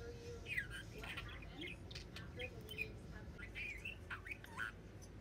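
A baby budgie chirps in a rapid run of high, short tweets and squeaky notes, close and fairly quiet over a low background hum.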